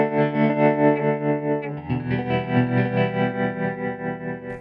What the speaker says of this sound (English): I'll set up the EQ and reverb, resulting in this sound.